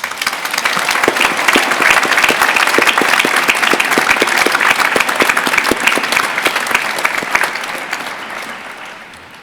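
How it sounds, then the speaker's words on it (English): A large audience at a university graduation ceremony breaks into sustained, dense applause that holds steady for several seconds before gradually fading. "Please join me in a round of applause for this entire class."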